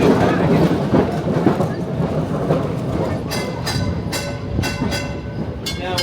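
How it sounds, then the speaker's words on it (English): Sydney tram number 1888, built in 1934, rumbles steadily along its rails from inside the car, with clattering wheel noise and a series of sharp rhythmic squeals or clicks in the later part. "Now the tram we're on at the moment, tram 1888, is actually a Sydney tram, manufactured in 1934"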